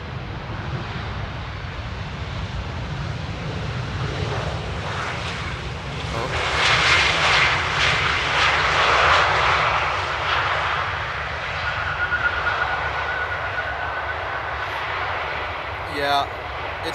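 A Delta airliner lands at Amsterdam Airport in a crosswind and deploys reverse thrust. The result is a steady, loud engine roar that swells in the middle and then eases off. Wind noise runs underneath the engine sound.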